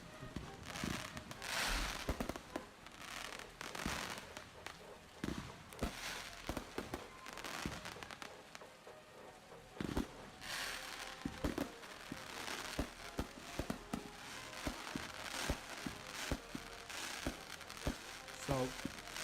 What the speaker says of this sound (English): So, fireworks are actually going on at the moment in Washington.